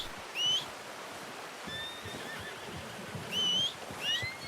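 A horse in Red Dead Redemption neighs in short whinnies: one near the start, then a pair later on, over soft outdoor ambience.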